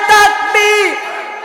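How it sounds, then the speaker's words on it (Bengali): A crowd of voices shouts the religious slogan Nara-e-Takbir in loud, close, drawn-out unison cries, two swelling calls in quick succession that fade away. "সবাই মিলে একই তালে দাও না স্লোগান নারায় তাকবীর"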